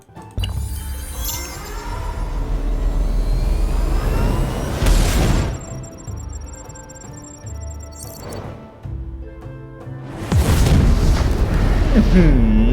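A nuclear bomb launch and detonation in the strategy game Humankind: a long swelling rumble peaks in a heavy blast, then a second huge boom follows later, with chimes and game effects between and a voice talking at points.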